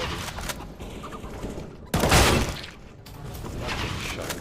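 Loud shotgun blasts and a burst of gunfire in a shooter video game, with one heavy crashing shot standing out among steady close combat noise.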